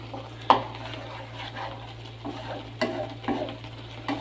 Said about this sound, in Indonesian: Ya, sudah mulai mendidih ya.